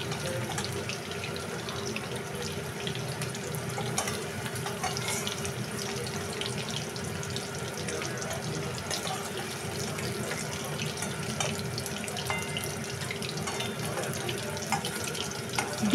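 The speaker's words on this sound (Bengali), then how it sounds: "এবার আমি এই তেলের মধ্যে দিয়ে দিচ্ছি সিদ্ধ করে রাখা আলু।" Boiled potatoes fry in hot oil for dum aloo, an even, continuous close sizzle and hiss that stays level throughout, with no talking.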